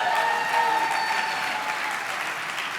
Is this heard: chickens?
no